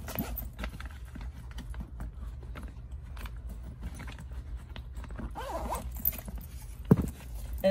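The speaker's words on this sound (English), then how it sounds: "Let's go ahead and zip it up." Zipper closing on a JuJuBe diaper bag, a series of soft rasping pulls close by with quiet rustling in between, with no talk.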